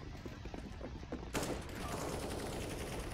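Counter-Strike gunfire: a string of quick shots, then a loud burst that turns into a dense rattle of continuous firing, set against game background noise.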